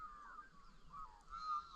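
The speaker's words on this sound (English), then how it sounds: "Can hear the birds." Faint bird calls chirp and honk intermittently across a quiet, still evening outdoors, with soft background hiss and no talking.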